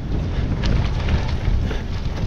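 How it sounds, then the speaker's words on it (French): A strong headwind buffets the microphone while riding a gravel bike outdoors, producing a steady, loud low rumble with gusty fluctuations and no talking. "Voilà, j'ai le vent en pleine poire."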